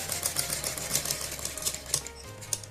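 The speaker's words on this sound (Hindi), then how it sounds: "और इसको फिर इस कोने में इस तरह से हम सिलाई लगाएंगे" A sewing machine stitches the neck corner of a Punjabi kurti, a quiet, rapid ticking patter with irregular clicks and a low hum underneath.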